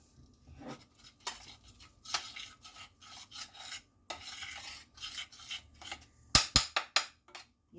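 Butter is scraped off a spoon into a pan for homemade gravy: a run of soft, rasping scrapes in uneven bursts, close and quiet, ending with a few sharper metallic taps of the spoon against the pan.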